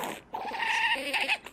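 A small Yorkie dog gives a brief, high, nasal whimper, close and fairly clear, rising and wavering for about a second.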